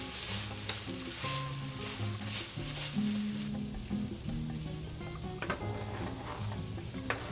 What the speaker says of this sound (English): I'm also going to saute both the onion and the mushrooms for just a bit